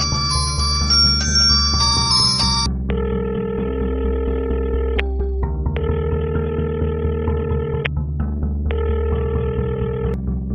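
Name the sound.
phone ringing unanswered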